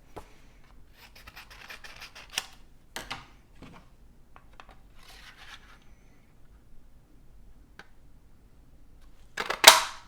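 Cardstock being trimmed for a handmade card, with quiet intermittent paper-cutting scrapes and brushing, then a short sharp slice at the end.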